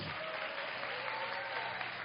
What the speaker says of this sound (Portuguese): Vamos aplaudir o povo de Divinópolis.